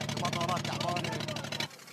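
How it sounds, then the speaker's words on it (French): The struggling engine of an old, overcrowded migrant boat at sea throbs in a steady rapid pulse, loud and close, with a voice talking over it until it cuts away near the end. "Le bruit du moteur écorche les tympans."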